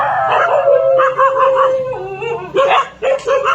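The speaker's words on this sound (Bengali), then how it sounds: "এই যে কুকুরগুলা শব্দ করছে" Several dogs bark and howl at night, the calls rising and falling in long wavering bursts with short gaps, fairly close and loud.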